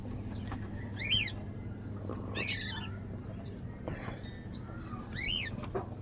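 Caged birds give several sharp squawks and chirps in short bursts over a low, steady background hum, the calls fairly close and spaced irregularly.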